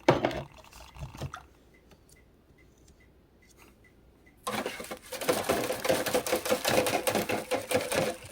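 A paintbrush is rinsed in a water pot after painting Seraphon miniatures: a few faint clicks and taps, then a louder burst of swishing and clinking against the container that continues to the end.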